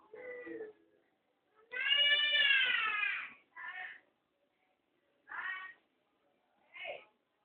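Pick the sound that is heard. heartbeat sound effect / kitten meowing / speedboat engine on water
kitten meowing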